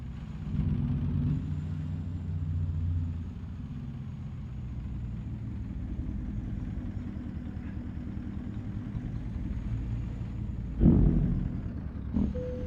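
A custom Peterbilt truck with a four-stroke V8 in American Truck Simulator rumbles with a deep, steady engine drone in tenth gear, holding loud and even before a sharp hiss-like burst near the end.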